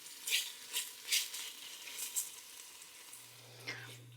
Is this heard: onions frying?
yes